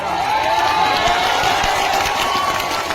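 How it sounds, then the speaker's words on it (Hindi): Election rally crowd clapping and cheering in a steady, continuous wash of applause, moderately loud, with a faint voice over it. "इतनी कमजोर ताली से काम नहीं चलेगा।"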